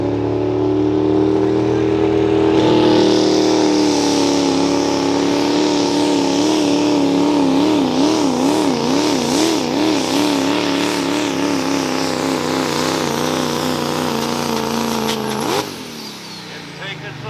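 Chevy, Ford and Dodge vehicle engines roar in competition with a loud, sustained drone. The pitch wavers and climbs under heavy load for about fifteen seconds, then drops off sharply.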